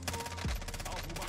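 Machine gun fire from the Call of Duty Warzone video game rattles in rapid, sustained bursts over dense battle noise, with a low sweeping tone passing midway.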